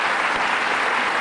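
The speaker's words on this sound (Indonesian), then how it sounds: "kita kasih tepuk tangan untuk Pak Saud." Studio audience at an Indonesian television talk show applauds for a guest, a dense, steady burst of clapping filling the room, loud and continuous with no voices over it.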